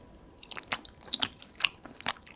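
Close, crisp chewing of thick, flat glass noodles in a spicy rosé sauce with melted white cheddar, heard as a quiet series of soft bites and wet crunches, alone with no talk.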